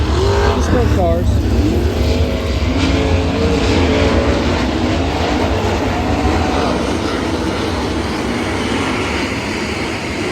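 Sprint cars at the World of Outlaws finals roar in a loud, continuous engine drone, with pitch sweeps as cars pass and a constant crowd-and-track wash underneath.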